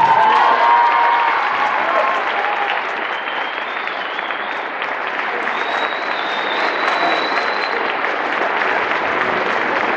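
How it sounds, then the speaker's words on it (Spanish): Sustained audience applause for the director of a school band at a concert, a dense, steady roar of many clapping hands with some crowd noise and faint whistles, loud throughout the full stretch. "un aplauso para mi director"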